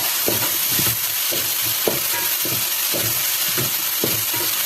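An onion and spice mixture with salt for a beef roast is sautéed in a pan under a steady sizzle, with regular scraping strokes of a spoon stirring it roughly every half second and no voices.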